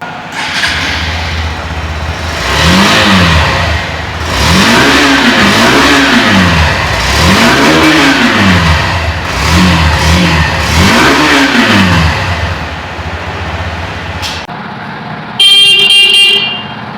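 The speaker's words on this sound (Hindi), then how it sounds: "तो एक बार इस गाड़ी के एग्जॉस्ट की साउंड भी सुन लेते हैं।" Hero Xtreme 160R motorcycle exhaust revved repeatedly in loud, close blips, the engine rising and falling in a steady rhythm, then cutting off before a brief electronic beeping at the end.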